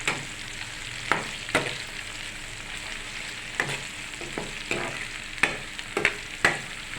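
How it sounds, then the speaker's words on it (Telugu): Cluster beans (guar) fry steadily in a pan, giving a soft continuous sizzle broken by occasional louder scrapes and clinks from stirring, with no talking. "నిజంగా ఈ చిక్కుడుకాయలు ఫ్రై అవుతాయి, గోరు చిక్కుడు ఫ్రై అవుతాయి"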